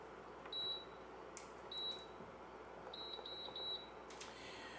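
Short electronic beeps from a cooktop, a single beep, then another, then a rapid run of three, high-pitched and clear over quiet room noise.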